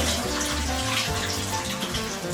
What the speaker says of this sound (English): you need to run some cold water to end the cooking process.